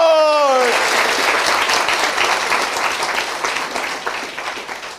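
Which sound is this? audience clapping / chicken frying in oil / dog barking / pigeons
audience clapping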